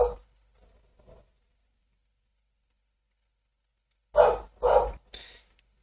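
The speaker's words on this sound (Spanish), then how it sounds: "ahí se escuchan unos perritos simpáticos" Dogs at the entrance to the pit lane at the Interlagos circuit in São Paulo bark in a quick series of three loud, close barks near the end. Before that there is a fainter yelp and a long stretch of near silence.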